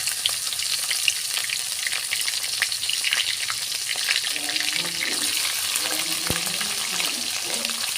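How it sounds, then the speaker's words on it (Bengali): Cumin, onion and garlic fry in hot oil with a loud, continuous close sizzle, with faint stirring sounds and a brief low murmur of voice partway through. "আমি জিরা তেলে দিলাম, পেঁয়াজ রসুন তেলে দিলাম।"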